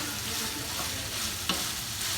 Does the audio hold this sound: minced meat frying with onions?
yes